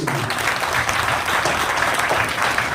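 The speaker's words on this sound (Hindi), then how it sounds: "एक बार जोरदार तालियां भाई" Loud, dense audience applause at a live comedy event in Patna, continuous thick clapping from a large crowd with no pauses.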